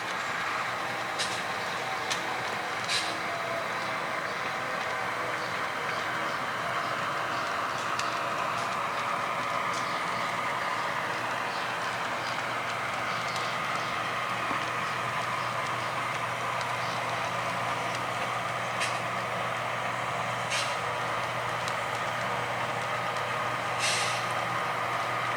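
Low steady rumble of a train in a rail yard dropping off two hopper cars, with a constant engine drone, a few short hisses and clanks scattered over it.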